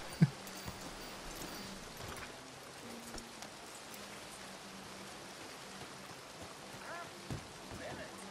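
Horse hooves clip-clop faintly through steady rain in the Red Dead Redemption 2 game world, a few scattered hoofbeats over a constant wet hiss, with a voice heard briefly.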